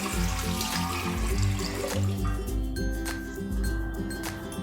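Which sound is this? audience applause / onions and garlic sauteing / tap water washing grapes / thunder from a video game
tap water washing grapes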